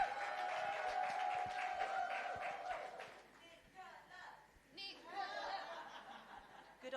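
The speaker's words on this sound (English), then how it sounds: "give her a massive round of applause" Stage audience applauding as a speaker named Nicola is welcomed at an afternoon event; dense, steady clapping fills the first few seconds, then thins out as voices and other sounds take over.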